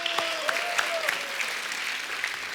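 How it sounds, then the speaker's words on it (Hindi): Studio audience on a TV comedy show clapping, a brief steady burst of crowd applause with a faint tonal sound briefly audible underneath. "उनके लिए जोरदार तालियां एक बार"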